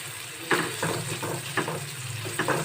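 Tomatoes being mashed in a sizzling pan for dhaba-style dal tadka, with a steady fry hiss and a few soft, rhythmic squashing and scraping strokes close by.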